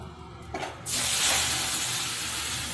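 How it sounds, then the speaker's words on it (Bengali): Cooked dal with taro hits a hot pan in a sudden loud burst of hissing sizzle that holds steady for about two seconds after a short quieter lead-in, close and without talk. "এবার আমি ডালটা ঢেলে দেবো"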